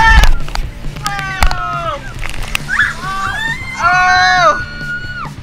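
Several people scream loudly in rising and falling wails while plunging down a 50 meter water ride drop, with water sloshing and splashing around them.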